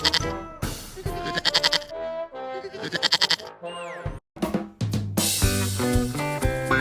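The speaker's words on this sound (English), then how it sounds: "sheep" Sheep bleating in a children's animal-sounds learning song: several loud, wavering bleats follow one another closely over a bright musical backing, with no talking.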